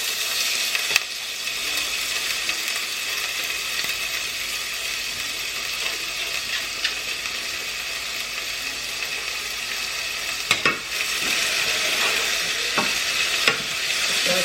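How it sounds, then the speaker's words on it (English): Rice frying in hot oil in a pan gives a steady sizzle throughout, broken by a few scraping stirs and clicks from a utensil, with no voices. "Okay, now I'm gonna add my rice."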